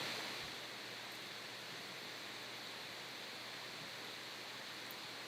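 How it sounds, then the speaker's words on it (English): A steady, even electronic hiss from a laptop fills the background, constant and unchanging throughout, with no other sounds. "if you're hearing a hiss in the background, that would be coming from my laptop"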